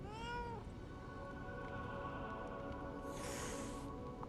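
A cat in the Lies of P video game lets out a short meow, then after a pause a brief, airy hiss, heard faintly over a steady game ambience.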